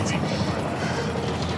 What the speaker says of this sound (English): Helicopter waiting to take you to safety.